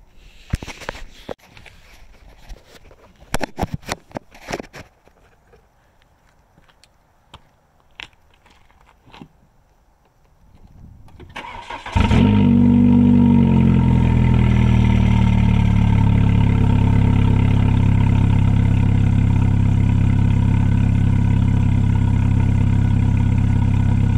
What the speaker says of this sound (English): We're about to get the Volkswagen started up here at 9:30 in the morning.